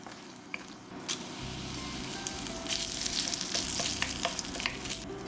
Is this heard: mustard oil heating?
yes